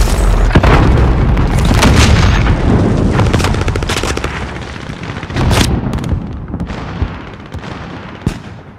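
Loud booms and gunfire in the Call of Duty Warzone video game, with a grenade blast among heavy close bursts and several sharp separate impacts toward the end.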